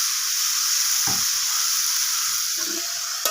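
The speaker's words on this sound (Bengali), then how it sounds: "এখন দিয়ে দিলাম এর মধ্যে কেটে রাখা বেগুনগুলোকে" Cut eggplant pieces added to a hot pan for a Bengali mixed-vegetable and prawn dish fry with a loud, steady sizzle and hiss, broken by a couple of brief stirring scrapes.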